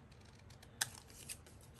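Scissors snip paper a few times, cutting a piece out for an idea journal; faint, close, crisp cuts with one sharper snip, over a quiet room background.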